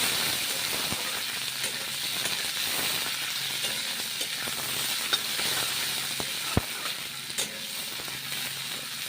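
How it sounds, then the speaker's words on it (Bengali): Chopped onion and capsicum frying in a pan for chicken fried rice, a continuous hissing sizzle with occasional sharp clicks of stirring, steady and moderately close. "পেঁয়াজ কুচি ক্যাপসিকাম কুচি দিয়ে দেবো ওগুলো একটু ভালো করে ভেজে নিতে হবে"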